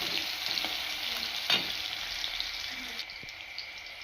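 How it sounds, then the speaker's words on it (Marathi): Soybean and potato vegetables frying with browned onions in a pan, a continuous close hiss and sizzle with faint scraping stirring clicks throughout. "भाजी टाकते त्यात. सोयाबीन बटाट्याची भाजी. चांगलं लाल असं भाजून घ्यायचं,"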